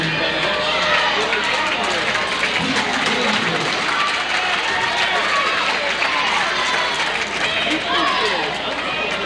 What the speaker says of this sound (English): I think we hear the roar from the crowd go up as each point is scored